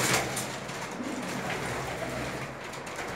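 Pigeons, including racing birds, coo softly inside a coop during molting season amid a steady hiss of background noise, low and fairly distant.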